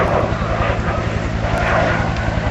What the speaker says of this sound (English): That's our Hueys warming up over there.